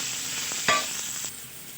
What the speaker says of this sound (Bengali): আমি এই মাছ ভাজার তেলের মধ্যেই আলুগুলোকে ভেজে নেব।